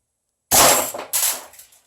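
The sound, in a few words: S&T gas blowback airsoft rifle firing semi-auto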